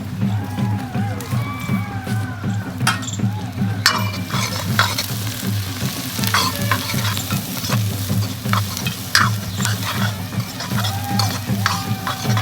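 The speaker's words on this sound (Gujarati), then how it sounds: "હવે અંદર નાખી દેવું દ્રાક્ષ. સાથે નાખી દેવું વરિયાળી." Raisins and fennel seeds tipped into a frying pan, with a steady crackling sizzle and continuous stirring scrapes over a low hum, loud and close throughout.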